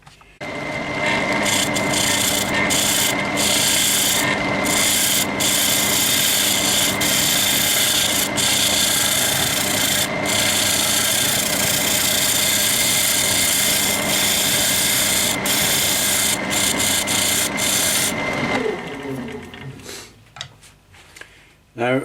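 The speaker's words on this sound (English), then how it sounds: "It's a really hard wood to turn, but the carbide cutter's making a decent job of it" Carbide cutter scraping a hard purpleheart bowl on a wood lathe, a steady loud rasping hiss with faint tonal hum that carries for about eighteen seconds, then drops away as the cut stops.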